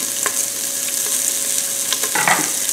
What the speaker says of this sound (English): All right, so our bacon is almost crisped up now. We're gonna go ahead and add our diced onion